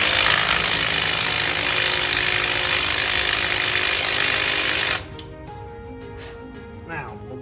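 An impact wrench with a chrome socket hammers loudly and steadily for about five seconds, then cuts off, leaving quiet workshop sounds.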